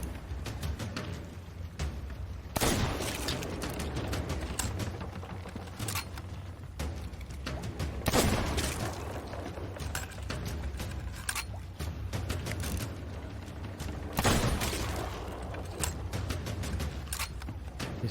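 Gunshots ring out in the pirate video game Sea of Thieves, several sharp loud bursts spaced seconds apart amid clattering game sounds and a steady background bed, with no voices.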